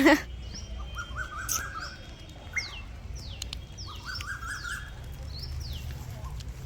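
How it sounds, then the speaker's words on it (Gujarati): Asian koel calling over a farm field with repeated rising whistled notes, moderately distant, over a low outdoor rumble and a few other faint chirps. "કોયલ બોલે છે કુ કુ કુ"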